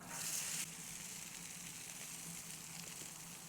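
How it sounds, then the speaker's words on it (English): Diced potatoes hit hot oil on a flat-top griddle preheated to about 360 degrees, a faint close sizzle that flares briefly at first, then settles into a soft steady crackle. "Put down some oil, and then diced potatoes."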